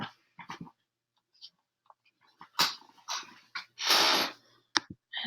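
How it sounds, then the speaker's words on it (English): A dog chews and tears at a piece of paper nearby, giving scattered snuffling and crinkling bursts between moments of quiet. "My dog's eating a piece of paper over here."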